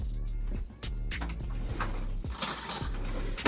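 A spoon grabbed in a home kitchen: a few light metallic clinks and a clattering rattle of cutlery and dishes, close by and fairly quiet, with no talk over it.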